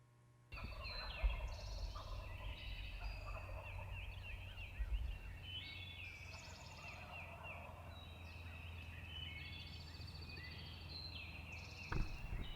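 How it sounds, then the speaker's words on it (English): Wild turkeys gobbling at dawn from several West Virginia ridges, repeated rattling gobbles at moderate distance over a steady background hum, with a couple of sharp knocks nearby. "We've got gobblers gobbling on 3 different ridges."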